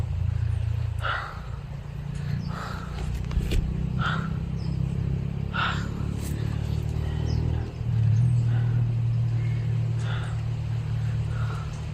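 A motorcycle travels along a road somewhere above a hillside path, its engine a steady low drone that swells near the end, while birds chirp faintly in the surroundings.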